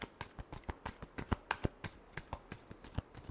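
A deck of tarot cards is shuffled by hand at close range, a rapid run of crisp riffling slaps and flicks in a busy, uneven rhythm.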